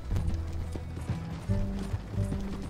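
Horse hooves clip-clopping in Red Dead Redemption 2, a quick uneven run of close, loud thuds with some rattling tack or mechanical clatter mixed in.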